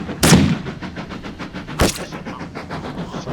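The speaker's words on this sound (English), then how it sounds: "Some gunfire took place." Two sharp gunshots crack in the video game This Land is my Land, the first at the start and the second about a second and a half later, both loud against a steady low rumble of background noise.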